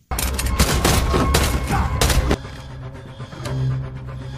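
Rapid bursts of gunfire in a film shootout crackle loudly for a couple of seconds, a fusillade of overlapping shots, then give way to quieter rumbling background.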